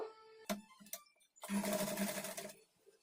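A sewing machine stitching along the folded edge of a kurti hem, a couple of short clicks followed by a steady one-second run of rapid mechanical whirring, close and loud with no voices.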